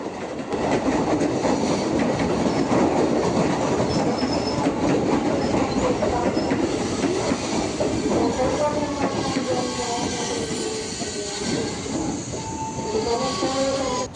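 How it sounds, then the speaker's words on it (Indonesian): An Indonesian KRL commuter train rolls into a station and slows, wheels squealing and brakes hissing, with a steady rumble and faint voices in the background. "Setelah KRL berikutnya datang, akhirnya saya melanjutkan perjalanan kembali."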